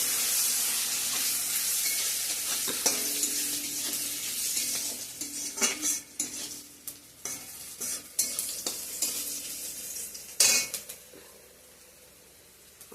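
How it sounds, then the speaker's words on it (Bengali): Cumin seeds hit hot oil in a home kitchen pan, giving a steady bright sizzle with stirring scrapes and a few sharp utensil clinks against the pot, close and with no talking. "জিরা দিয়ে দিলাম"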